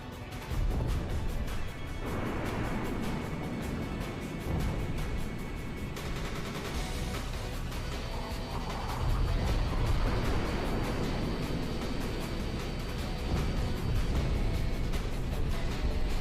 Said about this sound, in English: so many explosions happened in such a short time right there